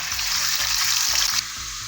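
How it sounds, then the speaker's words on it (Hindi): Garlic and ginger paste hissing in hot oil left from frying egg koftas, a steady bright sizzle with faint stirring scrapes that drops in intensity partway through. "देखिए लहसुन को मैंने तकरीबन 2 मिनट अच्छे से सौते किया था।"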